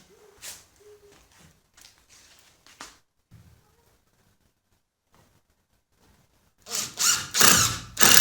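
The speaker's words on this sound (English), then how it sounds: "So I'm going to rotate those up and screw them in." Screws driven into reclaimed wood roof pieces of a smokehouse, with a power drill whirring in several loud bursts near the end after quieter scattered clicks and handling sounds.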